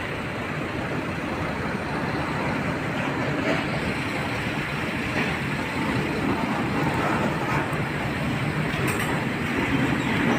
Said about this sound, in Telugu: బొగ్గు ట్రైన్ అయితే పోతుంది. బొగ్గు ట్రైన్ పోతుంది.